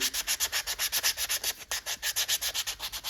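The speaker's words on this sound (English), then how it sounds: "Just keep sanding, just keep sanding." Rhythmic sanding of a wooden swimbait fishing lure, quick regular back-and-forth scrubbing strokes, close and steady with no talking.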